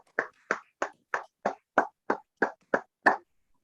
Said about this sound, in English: That is one somebody clap I heard just now.